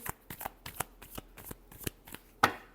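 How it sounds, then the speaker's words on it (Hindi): Tarot cards being shuffled in a quick series of crisp riffling bursts, close and fairly quiet, ending with one sharper, louder snap of the deck. "last shuffle"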